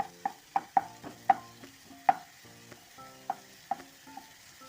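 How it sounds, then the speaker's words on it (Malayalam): Cashews and raisins roasting in ghee in a pan give a light sizzle beneath a spoon that scrapes and taps the pan about ten times in uneven strokes, heard up close with no voices. "ഇതിലേക്ക് നമുക്ക് ഒരല്പം നെയ്യും കൂടെ ഒഴിച്ചു കൊടുക്കാം ഒഴിച്ചിട്ട് അണ്ടിപ്പരിപ്പും മുന്തിരിയും കൂടെ ഒന്ന് ഇട്ട് കൊടുക്കാം"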